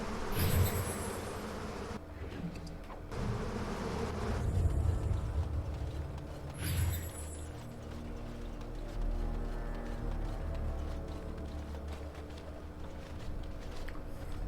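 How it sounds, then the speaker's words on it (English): A swarm of bees buzzes and attacks in the video game Dragon Age: Awakening, a continuous droning hum that swells and fades over several seconds, with bursts of combat noise mixed in. "Being attacked by bees."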